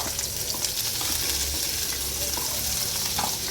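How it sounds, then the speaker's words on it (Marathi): Red rassa masala roasting in hot oil for a Kokan village crab curry, a loud close continuous sizzle with stirring scrapes running underneath. "तेलात भाजून घ्यायचा भाजतो वास पण येतो"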